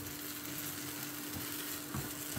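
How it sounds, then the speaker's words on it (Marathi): Semolina sheera with sugar being stirred in a pan, a continuous close sizzle with soft scraping strokes of a spoon, steady throughout with no speech. "साखर आपल्याला ह्याच्यात चांगल्यापैकी मिसळून घ्यायची आहे."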